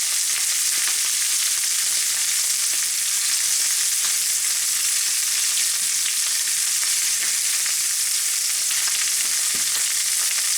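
Beef searing in a pan for French dip sandwiches, seasoned with black pepper and garlic powder, gives a loud, steady, close hiss and crackle of frying that continues without a break and with no talking.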